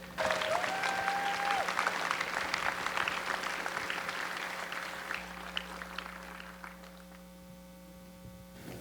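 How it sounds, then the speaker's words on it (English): Moderate applause fills a conference hall as panelists walk onto the stage, the clapping fading gradually over several seconds beneath a steady electrical hum. "Let's everyone give them a warm round of applause as they come to the stage."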